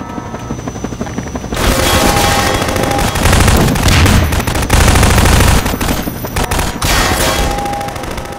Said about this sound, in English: Since you brought that chopper in on your tail